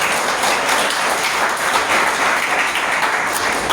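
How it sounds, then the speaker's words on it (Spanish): A church congregation applauds together during a Spanish-language sermon, a steady, full wash of clapping that stays loud and even throughout with no voices standing out. "Denle otro aplauso a Jesucristo"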